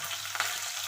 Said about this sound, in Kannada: ಒಂದು ಅರ್ಧ ಟೀ ಸ್ಪೂನ್ನಷ್ಟು ಸಾಸಿವೆ ಕಾಳನ್ನು ಹಾಕಿದೆ.